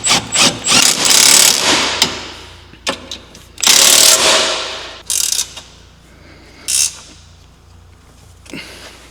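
Ratchet wrench tightening a bolt on CFMOTO Z10 handlebars, loud close clicking bursts in several separate runs with short pauses between, no talk over them.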